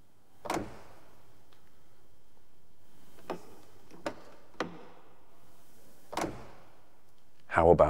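Hand-formed aluminium doors of an Aston Martin V8 Vantage Le Mans open and shut in several distinct thunks and clicks spaced seconds apart, close by, with a louder rustling clatter at the end.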